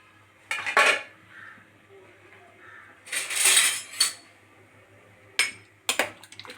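Cauliflower with salt and turmeric stirred in a pot with a metal spoon, several separate bursts of scraping and clinking against the pot, close and fairly loud, with quiet pauses between the strokes.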